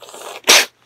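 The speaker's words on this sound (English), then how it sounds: "Thank you for sneezing all over my stuff." A sick pet cat lets out a single sharp, close sneeze, a short explosive burst after a moment of soft rustling, then quiet.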